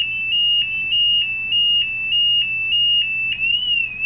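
Guardian bike alarm going off, a loud, steady electronic tone with a rapid repeating pulse and brief warbling dips, sounding continuously at close range with no one talking.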